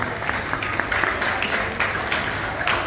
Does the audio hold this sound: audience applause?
yes